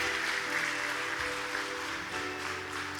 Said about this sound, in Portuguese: Pode aplaudir a Jesus se você crê na palavra